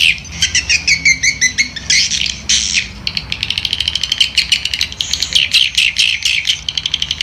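Loud swiftlet calls blare from a MEGA HORN HP-4000 horn loudspeaker mounted on a roof: fast rattling chirp trains and shrill squawks in quick bursts, close and alone.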